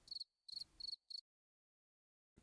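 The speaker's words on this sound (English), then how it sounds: "Crickets." Crickets chirp in four short bursts over the first second, then silence before a faint sound at the end.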